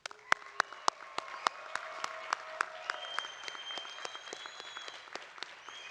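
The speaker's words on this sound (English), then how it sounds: "please join us in a rousing round of applause for" Audience applause for graduates at a College of Law commencement ceremony: a few sharp, separate claps at first, then a steady patter of many hands through to the end, with faint voices mixed in.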